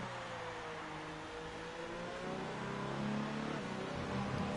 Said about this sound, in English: Car sounds very good at low RPMs.